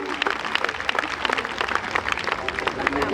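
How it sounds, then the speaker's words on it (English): Clapping breaks out from the audience at the Miss Gambia 2022 pageant as distinguished guests are honoured, a dense, lively patter of many hands with a voice audible over it. "Distinguished guests, give them a big round of applause, please."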